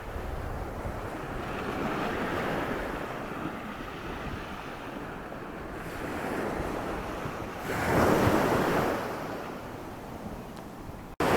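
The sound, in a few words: ocean waves and wind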